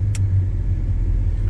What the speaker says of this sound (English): You can kind of hear some of our tools and things banging around behind the seats just a little bit.